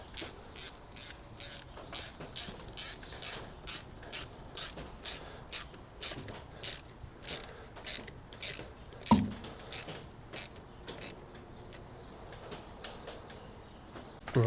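A ratchet clicks in quick repeated bursts as an intercooler pipe is tightened on a Nissan Juke 1.5 dCi, close and crisp, with a brief metallic knock near the end.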